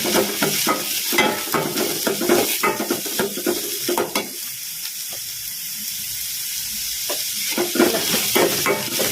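Onions frying in a pan for mango chitranna: a steady sizzle with repeated scraping and clinking of a spoon stirring against the pan, close, with a short quieter stretch midway and no talking.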